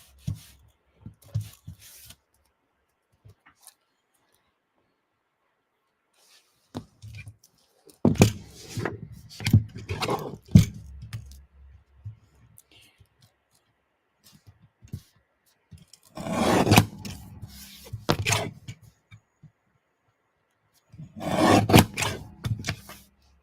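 Paper being trimmed for a handmade watercolor birthday card, with intermittent close scraping and cutting strokes coming in several separated bursts amid quiet gaps and small clicks.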